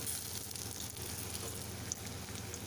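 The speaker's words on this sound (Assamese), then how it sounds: "মিডিয়াম ফ্লেমত ভাজিব পকৰিটো" Onion pakoras sizzle in hot oil on a medium flame, a continuous close crackle with small pops, no voices.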